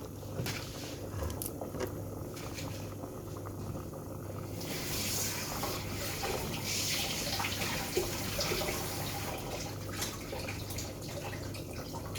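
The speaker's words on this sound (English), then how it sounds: "I'm going to wash them in this strainer here." Faint running water splashing over pak choy in a strainer during rinsing, a steady low hiss with scattered drips and small knocks, heard from a distance.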